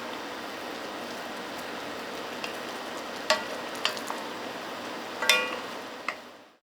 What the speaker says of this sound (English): let's go ahead and put our garlic, minced garlic in there. We'll let that cook for a minute or two